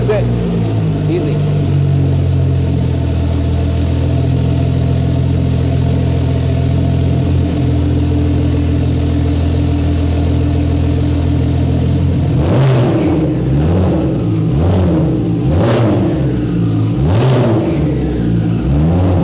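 A race car engine, started with power switch and key, idles with a steady rumble and then revs sharply several times in quick bursts, close and loud, with a voice talking over it.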